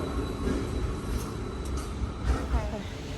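A train rumbles and clatters continuously on the rails, with faint wheel squeals, while people talk over the noise.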